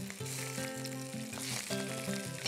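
Sausages frying in a pan, browning, with a continuous loud sizzle and crackle close up, steady throughout with no talk.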